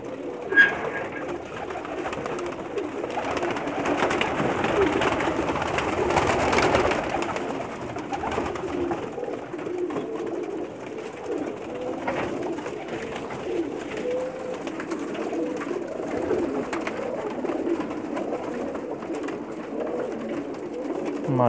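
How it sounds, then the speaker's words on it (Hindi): Special pigeons owned by a fancier in Mecca coo in low, rolling murmurs, several birds overlapping close by, with soft rustling and a brief louder stretch early on. "उस्ताद मताज़ साहब के स्पेशल कबूतरों की वीडियो दिखा रहा हूँ।"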